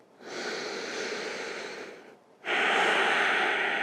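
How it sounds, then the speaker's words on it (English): Slow, deep breathing through the nose during a seated yoga pose comes through as two long airy breaths, a softer inhale followed by a brief pause and a louder, fuller exhale, close to the microphone with no talk. "You're breathing in and out through the nose."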